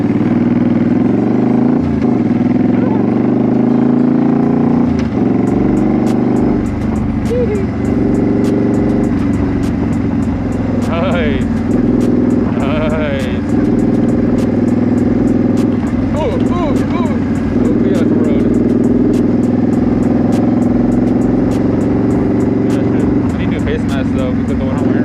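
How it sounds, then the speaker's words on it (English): Motorcycle engine running loud and steady while riding through a neighborhood, a constant low rumble with wind noise throughout and a rider talking over it. "Look how loud my bike is."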